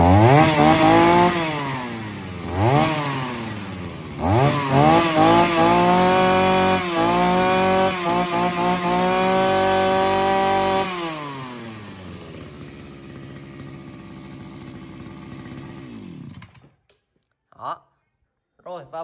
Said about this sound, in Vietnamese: Rồi em giật tiếp nổ cho anh em nghe qua con R7 nhá.